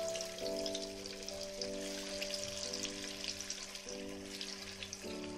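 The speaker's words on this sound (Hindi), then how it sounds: "अब हम इन्हें डीप फ्राई कर लेंगे" Suji kachori, three at a time, deep frying in well-heated oil over a high flame: a steady, dense sizzle runs without pause, with a faint tonal hum beneath it.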